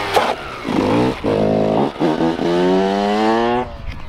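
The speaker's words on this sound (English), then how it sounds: "I love the sound of the two-stroke." Two-stroke shifter kart engine revving hard, a loud, raspy buzzing tone that climbs in repeated surges through the gears with brief dips between, close by.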